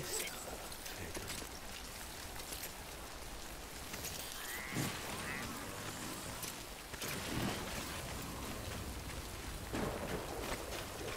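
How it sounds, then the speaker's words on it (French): Steady rain falls in Death Stranding, a broad constant hiss of drops running through the whole stretch with a few brief louder splashes, and a voice speaks faintly beneath it. "Est-ce que tu vois ou pas qu'il pleut"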